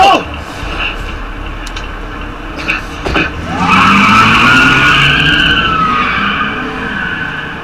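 A car in the video game A Way Out skids with loud tire squeal, then its engine revs as it pulls away, the sustained screech and engine roar dominating after a few sharp knocks, with a voice briefly present early on.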